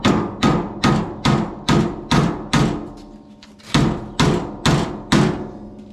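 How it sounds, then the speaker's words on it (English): Hammering on broken equipment during hay chopping work, a run of loud, evenly spaced metallic blows close by, a short pause midway, then several more strikes. "nothing a little hammering can't solve"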